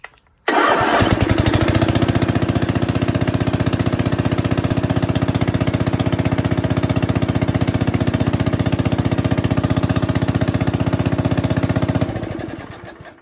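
Sears Custom 10XL engine cranked without choke, catching almost immediately and running loud and steady with a rapid, even idle chug for about eleven seconds before shutting down, no talking.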